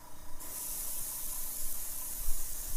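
Spray paint sealer hissing from an aerosol can onto a Hot Wheels die-cast car, a close, steady spray that starts abruptly and continues evenly.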